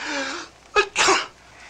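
A single close sneeze, with a sharp intake of breath followed by a burst, after a short spoken word.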